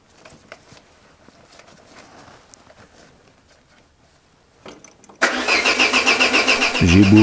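A Peugeot 205 engine cranks and fails to start on a weakening battery. A loud, rhythmic starter churn begins after some quiet handling noise and continues steadily without catching.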